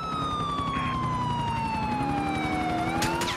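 Police car sirens in the video game GTA IV wail continuously with slow falling and rising pitch sweeps, loud and steady, with no talking.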